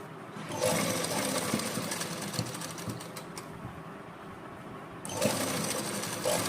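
Sewing machine stitching lace onto the edge of a salwar, a steady fast mechanical whir with needle clatter that runs loud and close, pausing briefly before starting again.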